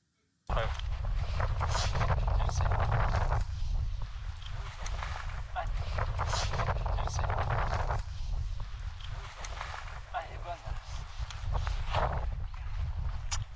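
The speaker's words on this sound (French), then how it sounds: "On entend qu'il y a du vent, on entend que ça souffle à mort" Strong wind roars across an outdoor microphone, a low rumbling buffet that swells and dips for over ten seconds, its harshness partly smoothed by noise reduction, with occasional footstep-like knocks.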